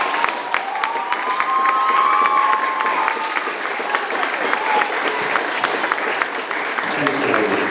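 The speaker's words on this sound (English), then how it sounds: "Please give them a round of applause." Steady applause fills a graduation ceremony, with dense, sustained clapping from the audience. A few faint cheers and voices rise in the background.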